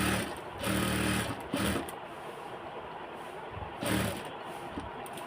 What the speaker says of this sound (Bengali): এই যে সেলাই করে দিচ্ছি।